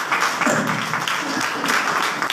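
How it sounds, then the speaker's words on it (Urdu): A church congregation applauds during a worship service, loud continuous clapping with rhythmic swells from a roomful of people, mixed with some voices. "آئیے یسوع کے جلال کے لیے زور کا تالیاں"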